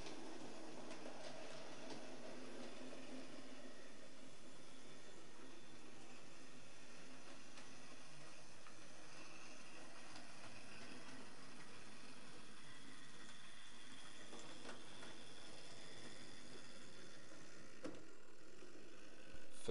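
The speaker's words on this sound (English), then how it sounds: "here's Toby the tram engine pulling quite a short little freight train" A model railway tram engine pulls a short freight train around a small layout with tight 9-inch radius curves, giving a faint, steady rolling whir with occasional light clicks over the track and no voices.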